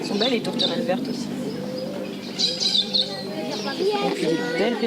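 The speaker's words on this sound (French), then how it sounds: "Elles sont belles les tourterelles vertes aussi." Green doves cooing in a forest park in Nouméa, with repeated soft coos and chirps from other birds in the background, while a person talks over them.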